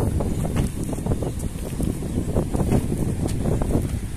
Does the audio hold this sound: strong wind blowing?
yes